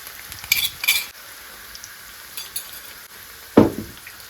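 Onions sauté in a pan for salmon thokku, a soft close sizzle under a few sharp stirring scrapes and one loud utensil clink near the end, with no voices.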